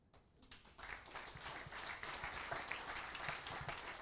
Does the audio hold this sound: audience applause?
yes